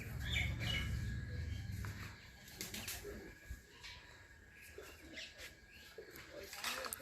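Soft, low cooing of Pakistani Teddy pigeons repeats in the background, mixed with faint chirps and occasional wing flutters, fairly quiet and without talk.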